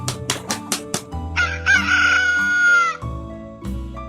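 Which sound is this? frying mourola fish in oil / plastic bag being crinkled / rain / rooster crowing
rooster crowing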